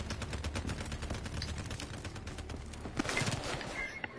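Call of Duty gunfire, a dense crackle of rapid shots rattling throughout, with a louder burst near the end, all at moderate level with no talk.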